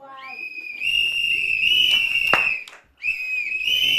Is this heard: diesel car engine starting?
no